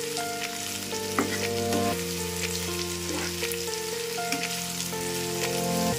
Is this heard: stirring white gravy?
yes